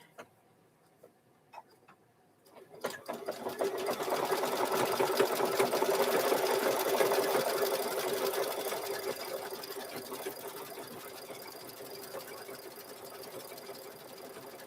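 A sewing machine stitches hoodie fabric, starting after a few quiet seconds with a couple of faint ticks, then running in a steady close hum that eases slightly and carries on to the end.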